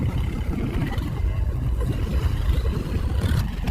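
Motorboat engine running steadily aboard a hired bangka heading back from Tonsai pier, a dense continuous low rumble with constant loudness throughout, close and loud with no speech over it.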